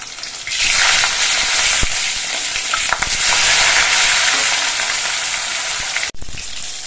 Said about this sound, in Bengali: মাছের এক পিঠ কিছুক্ষণ ভাজা হওয়ার পর মাছটা আমি উল্টে দিচ্ছি